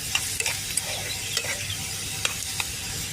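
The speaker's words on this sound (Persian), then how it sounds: "یه خوبی که سرخ شد رو هم میزنیم" Food frying in a pan while being stirred, with a continuous close sizzle punctuated by scattered sharp clicks and scrapes of the stirring utensil.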